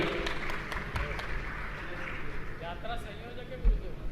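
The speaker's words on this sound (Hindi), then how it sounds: "इनके लिए भी जोरदार ताली बजावे" Loud applause from a temple gathering honouring guests, a dense, steady roar of many hands clapping together with voices mixed in throughout.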